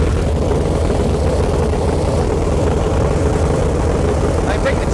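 Onan 140 generator with an 884 cubic inch V8, running on residential gas service at roughly 950 RPM, giving a continuous, loud, even low rumble with no break.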